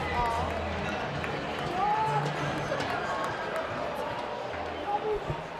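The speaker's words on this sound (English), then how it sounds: "The crowd are packed in. They are suitably loud already." Loud, steady crowd noise fills a packed hall before a school netball match, a continuous roar of voices with bursts of cheering and low rumbling throughout.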